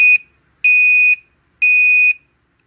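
A Gentex Commander 5 fire alarm horn, run on 9 volts, sounds three loud, piercing electronic tones, each about half a second long with short gaps between them.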